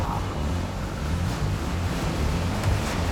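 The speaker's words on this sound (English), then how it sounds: "Here comes the water." Water rushes through a turbine as it starts up, a dense continuous roar and wash that swells slightly over the few seconds, loud and close with no voices.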